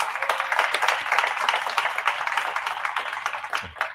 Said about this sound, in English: please give Salesforce a round of applause